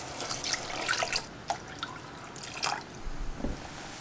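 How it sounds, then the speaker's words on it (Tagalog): Water, about 5 cups, splashing and dripping into a pot, with intermittent pours and drips, close by and fairly quiet. "Lalagyan ko ng tubig, mga 5 cups."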